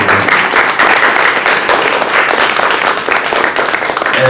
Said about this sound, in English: let's please also give a round of applause for the class of 2026.